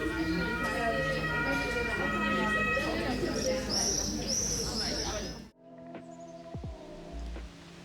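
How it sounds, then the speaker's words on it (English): An ambulance siren wails in the distance over a busy street in Dresden, Germany, with people talking nearby, before the scene cuts off abruptly. "A siren from a European ambulance bellows"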